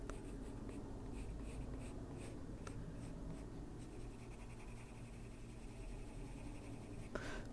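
Colored pencil scratching on paper while coloring, a soft, steady close-up rasp of continuous strokes with brief pauses and a sharper tap near the end.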